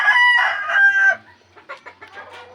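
A hen clucks loudly and close by in a short burst, followed by softer, scattered clucks and calls.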